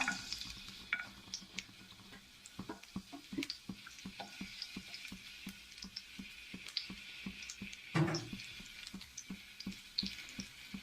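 Garlic cloves, about four, fry in leftover oil in a pan, a faint steady sizzle broken by soft ticks and light stirring clicks, with one louder scrape near the middle.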